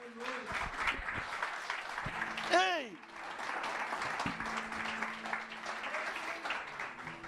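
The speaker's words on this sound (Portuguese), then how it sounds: "Aplauda ao Senhor, aleluia" Church congregation at a Portuguese-language service claps continuously in praise, with shouts, voices and a brief whooping cry rising over the applause.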